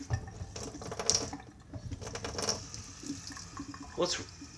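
Tap water running into a kitchen sink, a steady faint splashing wash with a few brief clinks, heard close and alone.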